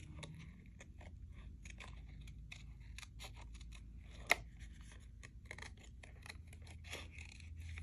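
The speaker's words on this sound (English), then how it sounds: "Usually you need a small pair of scissors to do so. And you just cut it like so." Small scissors cut out a card shape, giving a quiet, close series of crisp snips with one sharper click partway through, with no talk over it.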